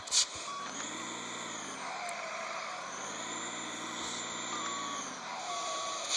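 A truck in Grand Truck Simulator backs up with a wood load, its reversing alarm beeping at a steady rhythm over a low, constant engine drone. A few clicks sound along the way.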